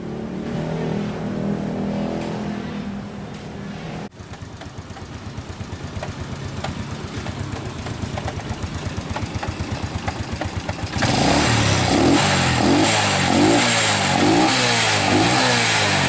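A Yamaha Jupiter motorcycle engine, recently rebuilt and again making an abnormal noise, runs and revs close by, its steady mechanical drone rising and growing louder and harsher in the final seconds.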